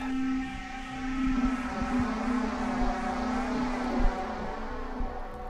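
A sustained synth tone from a DRC instance played via an iPad MIDI controller, steady and droning with a wavering, rich texture, alone at moderate loudness.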